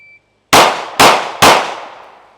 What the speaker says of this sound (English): you're gonna fire 3 rounds in 3 seconds